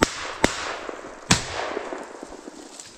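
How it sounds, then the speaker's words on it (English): Two sharp, loud shotgun reports outdoors on an October grouse hunt, spaced under a second apart, each with a fading echo and some faint rustling afterward, no talk. "I couldn't see it anymore after my second shot."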